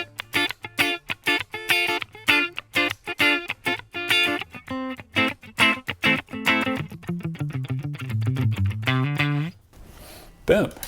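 Electric guitar played through an amp modeler set to a Deluxe Reverb amp model with EQ tweaks, a run of clean picked single notes and chords that ends in a sustained bend and then stops.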